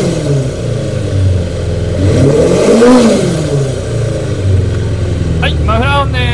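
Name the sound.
Kawasaki Zephyr 400 motorcycle engine starting and revving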